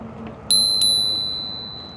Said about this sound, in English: Let's see what they do with my bell.